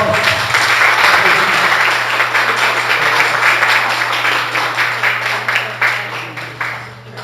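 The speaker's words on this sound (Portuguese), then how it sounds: "Você pode dar uma salva de palmas?" A church congregation claps together during a worship service, dense and loud at first, then thinning into scattered claps as it fades, with a steady low hum running underneath.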